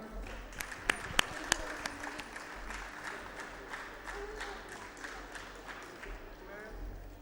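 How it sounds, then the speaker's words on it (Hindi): Audience applause at a school welfare society function as a guest of honour is called up, scattered, fairly faint clapping with a few sharp nearby claps early on, under a murmur of crowd voices and low background rumble. "प्लीज तालियां।"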